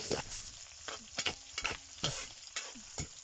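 Ricado aromatics sauté quietly in a pan for sardine ginisa, a soft sizzle punctuated by several short, evenly spaced spatula scrapes and taps.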